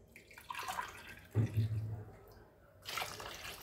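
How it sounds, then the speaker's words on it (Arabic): Water poured from a cup into baghrir semolina pancake batter gives a soft splashing pour near the middle, fairly faint over a quiet room. "غادي نعبر لكم بالكاس بالضبط شحال دخل معايا ديال الماء"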